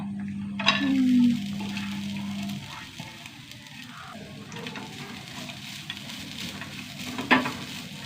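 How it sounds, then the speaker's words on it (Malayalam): Oil sizzles and crackles softly in a pan as coconut fries, with a brief stirring scrape, then settles into a low, steady frying hiss. "തേങ്ങ ഒന്ന് വറുത്തെടുക്കാട്ടാ"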